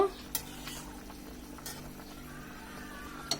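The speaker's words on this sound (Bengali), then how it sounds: "এখন একটু হালকা করে নেড়ে দেব।" Spoon scraping and clinking against a pot while a cauliflower and potato curry bubbles, with quiet low simmering throughout and a few sharp knocks spaced apart.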